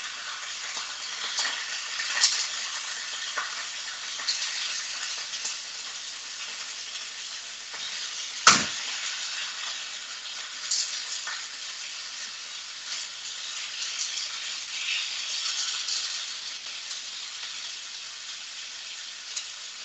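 Meat sears in a hot stew pot, a steady broad sizzle holding throughout with small stirring bumps and one sharp clack near the middle, close and alone without talk.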